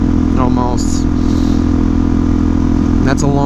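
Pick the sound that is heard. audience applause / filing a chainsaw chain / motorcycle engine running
motorcycle engine running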